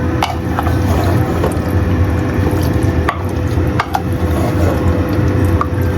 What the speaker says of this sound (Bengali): হালকা একটু বাটিটা ধুয়ে একটু জল দিয়ে দিলে হবে।